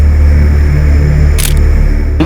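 A camera shutter gives a short, sharp click near the middle and another brief click at the end, set against a loud, steady hum, during an outdoor group photo in a Delhi crime drama scene.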